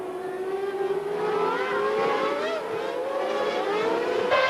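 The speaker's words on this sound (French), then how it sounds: "les deux McLaren Mercedes sont en tête du Grand Prix d'Italie" McLaren Mercedes Formula 1 cars at the Italian Grand Prix, a high-pitched engine whine that climbs steadily through the gears as the cars race past, loud and continuous, with a sharper burst of revving at the very end.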